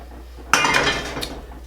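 A pounded, salted and peppered chicken piece goes into a metal pan, setting off a sharp clatter and clink of cookware that rings briefly and fades, close up with no talking.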